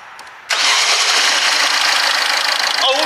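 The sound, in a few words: 2010 Ford Fiesta diesel engine starting and running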